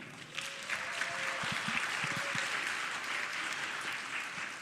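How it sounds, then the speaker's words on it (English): Audience applause at a student recognition ceremony, a sustained even wash of many hands clapping, fairly distant and soft, with a few muffled voices faintly underneath. "please give them a round of applause"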